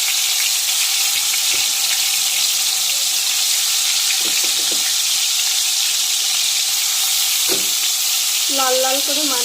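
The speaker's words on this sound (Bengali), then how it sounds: "এখন আমি মাছগুলো ভেজে নেব।" Pieces of rui fish fry in hot oil in a kadai with a loud, close, unbroken sizzle, joined by a few brief utensil clinks and a short squeal near the end.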